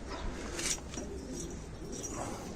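Pigeons coo softly inside a coop, a close, low continuous murmur of several birds with a brief louder flutter, no talk.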